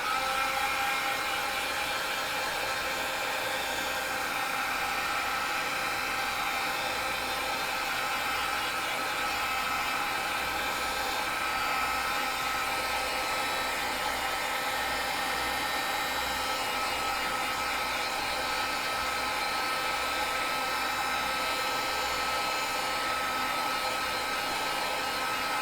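A heat tool blows continuously to dry rust paste on a mixed-media card, giving a steady, loud, unbroken whir with no talk over it.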